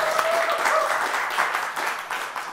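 Applause fills a TV studio during a political talk show, a steady, moderately loud round of clapping that runs the whole moment without pause.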